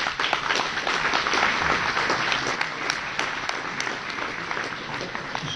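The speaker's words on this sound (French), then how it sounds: "merci beaucoup pour applaudir nos intervenants" Audience at a Big Data trade show in Paris applauds the speakers with steady, dense clapping throughout, moderately loud and close, with no talk over it.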